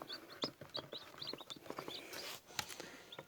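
A mother hen, likely a broody hen, with newly hatched chicks gives soft clucks while high, thin chick peeps repeat close by, with no talking.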